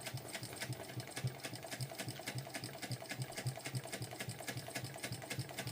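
A sewing machine bastes a lining seam on a Pebble Sling Bag, running steadily with a fast, even needle rhythm, faint and continuous throughout.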